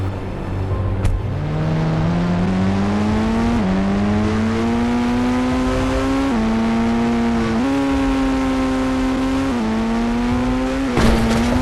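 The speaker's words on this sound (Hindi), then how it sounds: "गाइस हम लोग की पहली गाड़ी होने वाली है लैम्बोर्गिनी।" A Lamborghini in the Indian Bike Driving 3D driving game revs up through several gear changes, its engine note climbing in pitch and dropping back with each shift, loud and close throughout.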